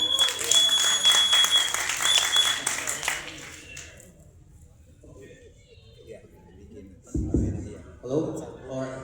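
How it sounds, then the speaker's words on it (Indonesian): Audience applause at a first-anniversary event, a broad wash of clapping that fills the first few seconds and then fades, followed by scattered voices and a few knocks. "Tepuk tangan."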